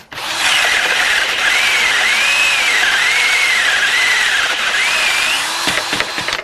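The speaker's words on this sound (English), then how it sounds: "Even a little battery-operated drill will drill those holes." A small battery-powered drill bores hinge holes, whining steadily and loud with a rising and falling pitch as it bites in, then stops with a few light knocks at the end.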